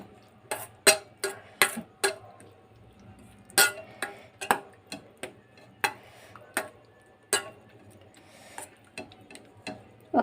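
A spoon stirs curd into a chutney of chopped onion, green chilli and salt in a bowl, giving sharp, irregular clinks and taps against the bowl over a faint background hum.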